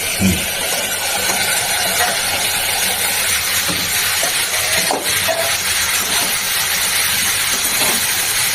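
Cauliflower and green chillies fry on a high gas flame, giving a loud, steady, close hiss with faint clatters now and then.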